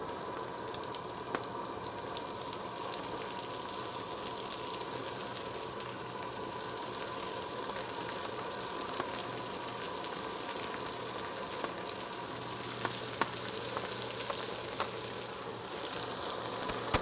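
Damp, not fully dried vegetables sizzle steadily in a hot pot for a venison au vin, a dense, even frying hiss with small pops throughout, close and continuous with no talking.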